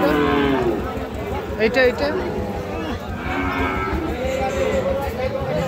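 Sahiwal cattle mooing close by at a cattle market, long low drawn-out calls repeating over a busy background of people talking.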